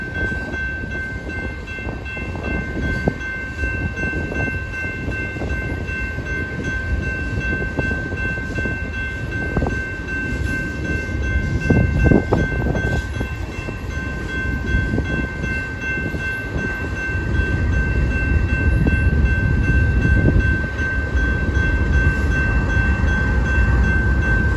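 A long freight train rolls steadily past close by, with continuous wheel rumble and rail noise and a rear DPU locomotive, an ES44AC, bringing up the end; a faint horn tone runs throughout.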